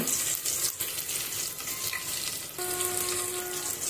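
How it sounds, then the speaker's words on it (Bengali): Onions sizzle and crackle as they fry in hot oil on a stove, a steady close hiss with brief clinks, continuous and without any talking. "তেল দিছি, এখন পেঁয়াজ দিয়ে দিব। পেঁয়াজ দিয়ে দিলাম।"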